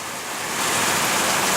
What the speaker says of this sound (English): Whoa, it is raining a lot.